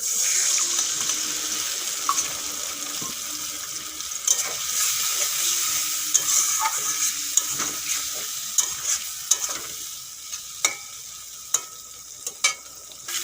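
Potatoes for an aloo fulkopi curry cook in a pan with ground coriander, cumin, turmeric and chilli paste mixed with water, a soft steady sizzle broken by repeated sharp scraping clicks of a spoon stirring, growing more frequent toward the end.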